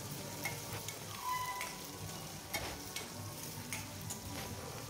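Onions and green chilies fry in oil with a steady sizzle while a ladle stirs them, scraping the pan in occasional soft strokes; no talking.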